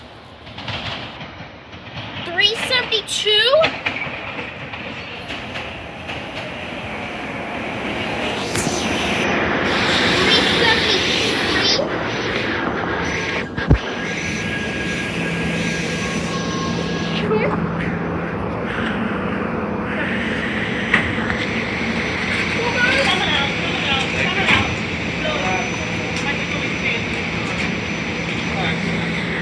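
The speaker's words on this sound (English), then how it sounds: "This is train 437 to the airport. Coming in. Silverliner 4 rail cars." Silverliner IV commuter rail cars on train 437 to the airport pull into Fern Rock station with a steady, loud rolling rumble, a thin sustained squeal, and a few sharp clanks, while a voice talks over the passing train.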